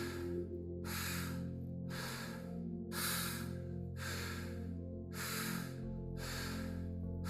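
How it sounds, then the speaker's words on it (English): Strong breaths drawn in through the nose in a quick, regular rhythm, about one every second, over a soft sustained musical drone during a guided meditation. "Just breathing prana in."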